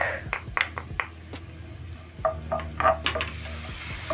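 Diced white onion and garlic frying in hot cooking oil in a pan, a close sizzle broken by scraping stirs and light clinks of a utensil against the pan, with no speech.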